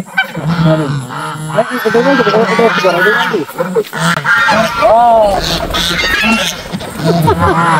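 Chinese geese at a village pond honk loudly and continuously, with several overlapping close calls and a person talking among them.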